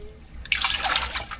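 Water poured from a vessel into a cooking pot of washed rice aboard a fishing boat, a steady splashing gush that begins abruptly and continues close by, with no talk over it.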